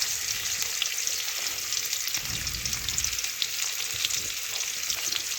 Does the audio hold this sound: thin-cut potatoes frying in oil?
yes